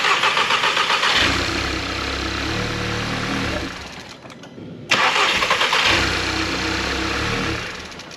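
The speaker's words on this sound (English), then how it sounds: "go see if it turns over and doesn't start" A Mk7 Volkswagen Golf engine with a newly swapped IS38 turbo cranks and catches after running out of fuel, idles roughly, cuts out briefly, then cranks and fires up again, loud and close.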